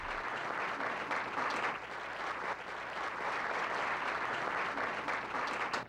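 Sustained audience applause fills a hall as Grandmaster Jun Ree takes the stage, a dense, steady wash of many hands clapping at full strength throughout, with no voices over it.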